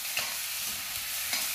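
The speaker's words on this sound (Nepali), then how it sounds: "करी पकाउँदैछ है आमाले पकाउँदैछ" Curry with local village chicken fried in a pan while being stirred, a steady close sizzle with a couple of faint utensil taps, no voices.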